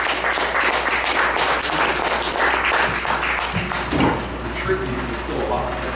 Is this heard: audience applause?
yes